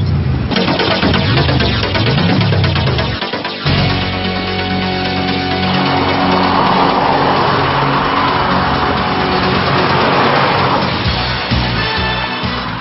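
A Volvo S60 car drives past and revs, a loud engine note that rises and falls with gear changes over a steady road rumble.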